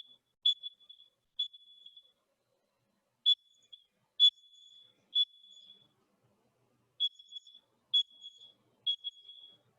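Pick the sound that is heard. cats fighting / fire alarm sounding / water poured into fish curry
fire alarm sounding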